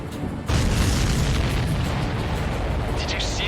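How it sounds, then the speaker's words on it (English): In the video game Ace Combat 7, a supply ship is downed: a loud, deep explosion bursts in suddenly and then rumbles on as a sustained roar with crackling debris, filling the whole stretch. "Did you see that explosion?"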